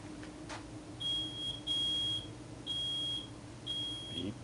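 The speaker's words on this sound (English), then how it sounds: "Beep, beep, beep." A high electronic beep repeats four times in short steady pulses over a low background hum.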